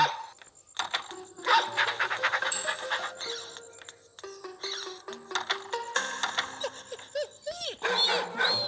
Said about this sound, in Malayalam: ഇവിടെയുണ്ട് ഗൈസ് പട്ടി, അത് നല്ല തന്നെ പോകും